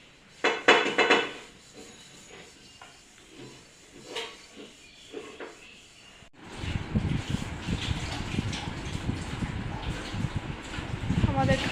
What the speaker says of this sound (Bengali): এখন বাসন মাজছে, কড়াই মাজছে দেখো।